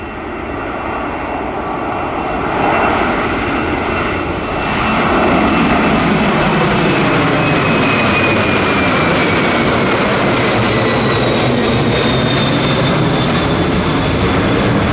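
Loud airplane engine roaring during takeoff at an air show, a steady powerful drone rising in pitch as the aircraft climbs away, continuous and close with no talk.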